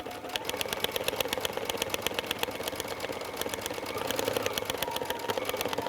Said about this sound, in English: continue to just draw or doodle on your sewing machine